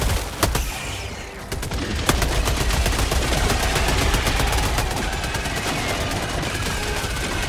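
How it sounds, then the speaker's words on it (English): Sustained machine gun fire in Helldivers 2 during a bug fight, dense rapid bursts of gunshots running almost continuously and loud, with the crackle of combat throughout. "Have fun with the machine gun."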